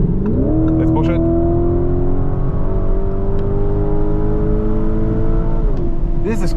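A 2026 Lamborghini Urus SE V8 hybrid pulls hard in fourth gear on the German Autobahn, its engine droning loud and steady with rising pitch, a shift-like dip near the end, and strong wind and road roar throughout.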